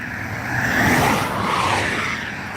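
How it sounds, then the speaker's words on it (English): Cars passing by on a road, a broad whooshing swell of traffic that builds toward the middle and fades, heard alone with no talk. "Shall we just video these cars as they go past so you can see how fast they're going?"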